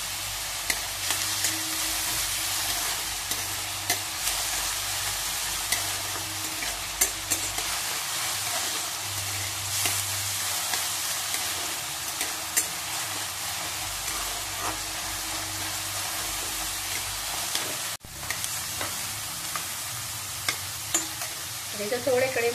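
Onions sauté in a pan with a pinch of salt, frying until pink, giving a steady close sizzle with occasional stirring scrapes and small clicks throughout and a brief dip near the end.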